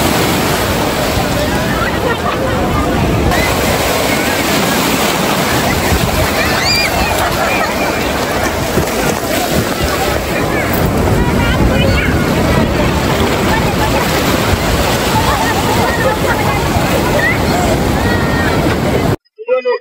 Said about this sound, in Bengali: প্রচুর পরিমাণে বড় বড় ঢেউ আসছে